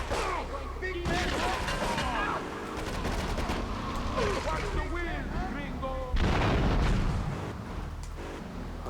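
Grand Theft Auto 3 gameplay with rocket launcher fire amid ongoing gunfire and explosions, a dense loud barrage with a heavy blast near six seconds, while people talk over it throughout.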